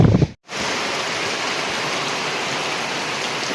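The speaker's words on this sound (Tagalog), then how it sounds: "nag-ulan na" Steady rain falls in a Philippine seaside village. After a brief dropout it becomes a dense, even hiss that holds for a few seconds.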